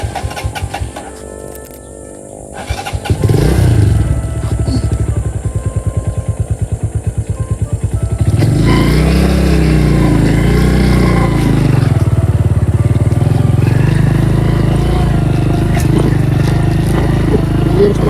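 A motorcycle engine idles with a rapid putter, then revs up and drones loudly as the bike rides off, close by.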